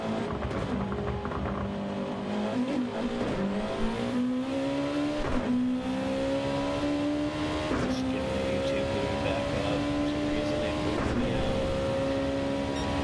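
Steady droning race car engines in a GT500 racing video game at Trial Mountain, a continuous harmonic whine that rises and dips with shifts and throttle changes across the whole stretch.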